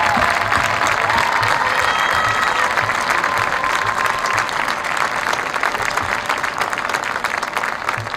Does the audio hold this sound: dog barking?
no